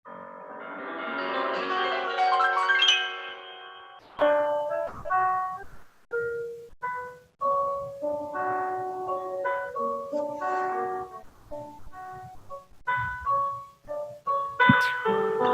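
Recorded instrumental performance of a ballad, melodic tones over sustained chords, playing continuously and fairly loud with no talk.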